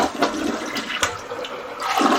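A newly installed toilet flushes close by, a steady rush of water swirling and draining through the bowl for about two seconds with no talking.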